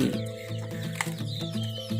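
Chickens cluck steadily inside a backyard chicken coop in Thailand on a morning after rain, several birds close by in a continuous, overlapping chatter.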